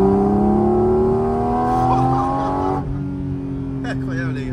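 Porsche GT4 RS sports car engine running steadily and loudly at close range, with a sustained droning tone throughout and people talking over it.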